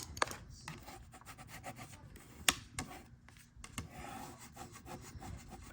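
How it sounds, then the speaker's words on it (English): A bone folder or tool burnishing cardstock down along a score fold while assembling a scrapbook folio mini album, giving close, quiet rubbing and scraping strokes with a few sharp ticks, no voices. "Burnishing it down."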